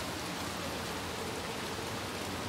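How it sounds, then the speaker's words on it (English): Rain pours in the video game Little Nightmares 2, a dense, even wash of falling drops that fills the scene steadily without any speech. "Lots of rain."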